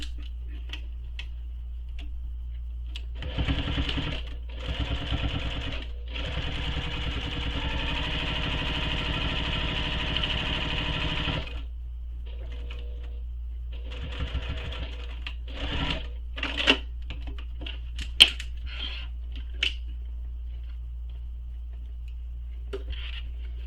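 A sewing machine runs in two long bursts of rapid, even stitching while top stitching the edge of a backpack, separated by pauses, followed by scattered light clicks and handling noises in a quiet room.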